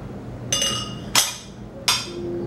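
Beer glasses being switched clink three times in quick succession, bright sharp glassy taps close to the microphone over a quiet background.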